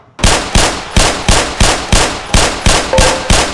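A pistol on the Black Mesa hazard course firing at targets: eight loud, close shots at an even pace of about two per second, each with a sharp crack and a short decaying tail.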